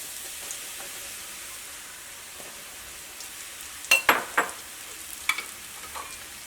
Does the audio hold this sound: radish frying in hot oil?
yes